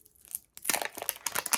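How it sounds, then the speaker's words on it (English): Tape peels off a surprise ball in a few short, crisp tearing and crinkling bursts after a brief pause, close and fairly quiet, with no talking. "Peel the tape."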